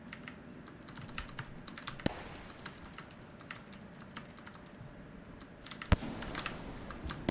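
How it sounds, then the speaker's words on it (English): Computer keyboard typing during a Rain World gaming session: a steady, close run of light key clicks with occasional louder taps, continuing throughout with no talk. "Can you hear my keyboard?"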